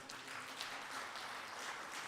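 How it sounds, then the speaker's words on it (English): Faint applause from a conference audience, a soft continuous patter of clapping heard at a distance. "Great applause to them."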